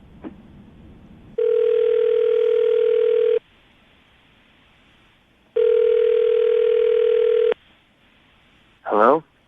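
Two long, even ringback tones of an outgoing phone call, each about two seconds with a gap between, heard over a quiet line before a voice briefly answers.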